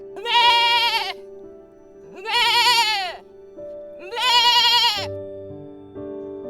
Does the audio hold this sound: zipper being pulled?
no